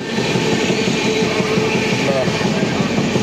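A train rumbles steadily nearby beneath an elevated metro line in Bengaluru, with a dense rolling clatter throughout, loud and continuous, with a brief squeal of wheels partway through.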